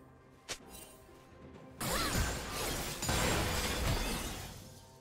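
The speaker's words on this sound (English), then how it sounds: "Blue team's turret has been destroyed." A turret being destroyed in League of Legends, a sudden loud crash and crumbling burst that swells and rumbles for a few seconds after a short sharp click, with no talk.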